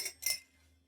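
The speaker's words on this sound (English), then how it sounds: "And into the mixing glass, some ice. And we give that a really good swirl." Clear ice cubes clink against a mixing glass as they are swirled for a rum Old Fashioned, two quick close glassy rattles followed by quiet.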